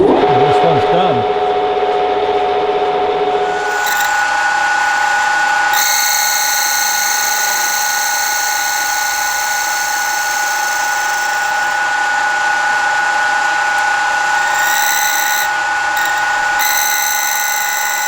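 A power tool whirs steadily, skimming rust off a valve face from a Ferguson TEA 20 tractor engine, a loud continuous high-pitched grinding drone lasting throughout with shifting tone.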